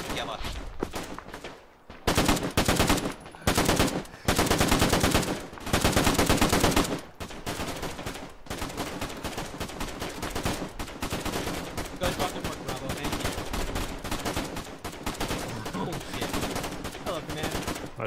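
Loud gunfire rattles through a military video game firefight in a combined-arms operation, with dense bursts of automatic shots and rapid single cracks, nearby and sustained.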